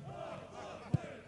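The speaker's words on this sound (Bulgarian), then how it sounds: "Феновете на Ботев пак пеят песни за своя отбор" Botev Vratsa football supporters sing chants for their team from the stands during the second half of a league match, a faint, distant crowd chorus with one brief thump near the end.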